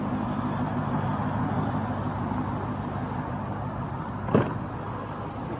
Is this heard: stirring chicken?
no